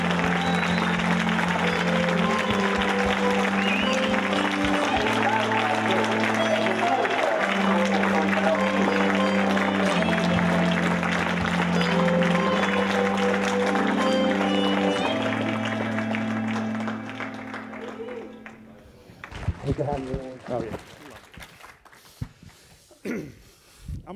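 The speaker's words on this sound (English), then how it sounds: "Another round of applause for these young people right here." An audience applauds young people at an awards ceremony of a compassion and technology conference, sustained and loud under music for about eighteen seconds before fading to scattered sounds.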